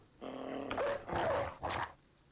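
War dogs in the Battle Brothers video game growl and snarl in three short rough bursts at moderate loudness, close by.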